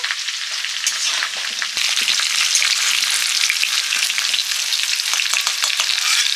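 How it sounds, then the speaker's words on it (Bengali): Potatoes frying in hot oil give a loud, dense, continuous sizzle close up, with one sharp knock early on and faint stirring underneath. "আলু ভাজা হয়ে গেছে তুলে নিচ্ছি"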